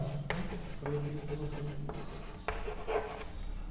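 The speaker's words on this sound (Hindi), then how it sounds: "इसको मैं इस तरफ लिख दे रहा हूँ।" Marker or chalk writing on a classroom board during a Class 9 maths lesson on plane figures, heard as steady scratchy strokes in several bursts with short pauses between, close and moderately loud, with no talk.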